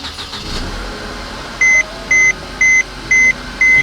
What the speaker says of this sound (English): The first crank is going to crank over like that, so don't be worried.